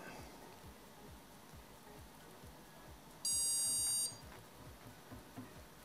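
A Prusa MK4 3D printer gives a single steady electronic beep of just under a second, clear above a low, rumbling room background.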